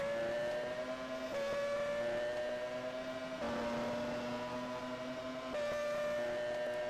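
High-pitched 1999 Formula One racing engine in rFactor 2 at the Malaysian Grand Prix circuit, droning steadily at speed, with pitch dipping and rising through gear shifts, heard without talking.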